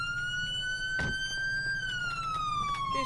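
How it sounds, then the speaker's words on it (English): A loud police car siren in GTA 5 wails continuously, its pitch holding steady and then slowly falling, with a thud and faint clatter partway through. "Turn the sirens off, bro."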